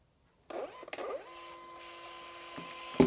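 A small label printer prints a photo label: a faint motor whir starts, a couple of clicks follow, then a steady humming feed tone runs for about two seconds and ends in a sharper click.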